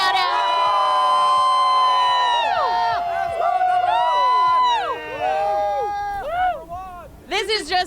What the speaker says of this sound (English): we've got a great crowd out here. Can we get another shout out?